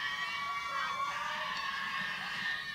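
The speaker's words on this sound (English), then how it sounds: "You can hear excitement of the benches and the crowd" Crowd and team benches cheer steadily through sudden-death overtime at a girls varsity field hockey game, a continuous wash of excited shouting and whoops from spectators and players.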